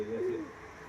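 A single soft coo from a pigeon at a racing and sales gathering of high-flying teddy pigeons, brief and close, fading into quiet background hum.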